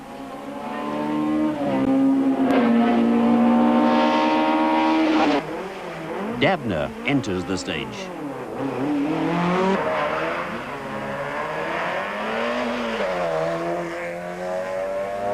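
A Conquest rally car engine roars at high revs on a 1995 rally stage, shifting up and down through gears as it races past, with a voice speaking briefly over it.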